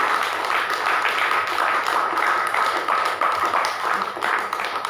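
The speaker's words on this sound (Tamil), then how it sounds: "நல்லா கரங்களை தட்டுங்களேன்." A church congregation claps hands together in a steady, dense wash of applause-like clapping filling the whole clip, with no clear talk over it.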